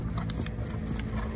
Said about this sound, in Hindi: हाँ, दूसरा घोड़ा आ गया,